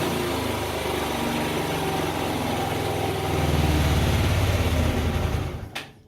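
A Hyosung Comet GT250 motorcycle engine runs on choke at a steady, close idle, then briefly rises in level before sputtering out and dying near the end.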